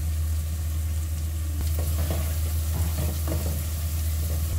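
Onions and spices frying in a pan for aloo gobi, a steady close sizzle with a low background hum and a few soft stirring clinks in the second half, no voices.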